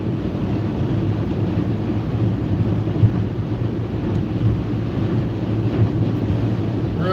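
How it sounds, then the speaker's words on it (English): Strong gusty wind buffeting a car driving at about 70 mph on an interstate, a constant low roaring rush with occasional thumps against the microphone, loud and without talk. "It's very windy."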